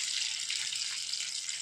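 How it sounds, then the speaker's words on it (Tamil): Cornflour mixed with water poured into butter chicken in a pan, a steady liquid gush with sizzling hiss that holds evenly for the whole moment, fairly faint and uninterrupted. "அதே இதில் கான்ஃப்ளவர் மாவு கலந்த தண்ணி இதில் ஊற்றிக்க வேண்டியதான்"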